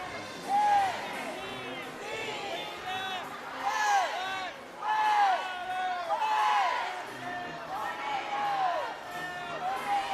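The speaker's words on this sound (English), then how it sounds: "some parents on the West End side behind me getting a cheer going for their squad" Parents in a gym cheer and whoop for their team at a girls' high school basketball game, with rising bursts of crowd voices and clapping, while a commentator talks over the noise nearby.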